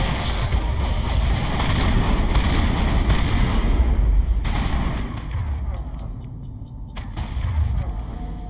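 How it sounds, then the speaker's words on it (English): Shotgun fire in the video game Mass Effect Legendary Edition: dense, loud bursts of combat noise roll on almost continuously, easing briefly near the end before a final sharp crack. "The shotgun."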